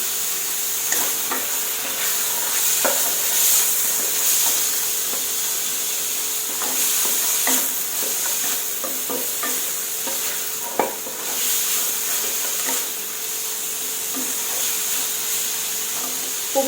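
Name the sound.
long beans stir-frying in a pan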